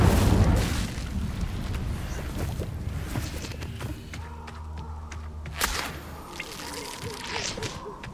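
A fire spell bursts out in the Hogwarts Legacy video game, a loud whooshing boom at the start fading into crackling flames and lighter thuds.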